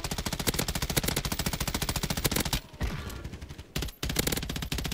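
Automatic gunfire rattles through a Call of Duty Warzone match in fast, loud bursts of rapid shots, broken by two brief pauses before the firing resumes.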